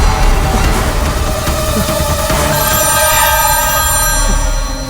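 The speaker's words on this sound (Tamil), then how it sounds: "டேய் மாப்பிள்ள ஃபோன் அடிக்குதுடா" A telephone rings loudly and continuously with a bright repeating electronic tone that fills the whole stretch, close and alone without voices.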